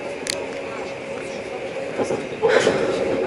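Inside an electric suburban train heading to Zelenogradsk, a steady low rumble and hum of the moving carriages fills the background, with a few brief clicks and a louder swell toward the end, under faint talk.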